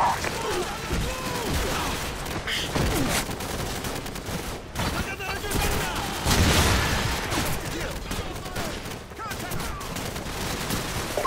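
Dense video game gunfire in Call of Duty 4: Modern Warfare, a sustained fusillade of rifle and machine-gun shots in a bog firefight, loud and continuous with occasional heavier bursts and voices calling out underneath.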